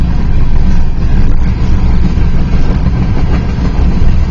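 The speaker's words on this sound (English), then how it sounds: "We have a BNSF train with City Rail behind it." A BNSF freight train rolls past close by, a loud, dense rumble and roar that holds steady throughout, with no voices over it.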